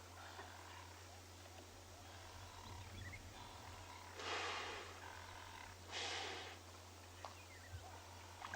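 Elephants breathe during a sunset safari at Tswalu in the Kalahari, with two long, breathy exhalations rising out of a faint hum and outdoor ambience, quiet and fairly close.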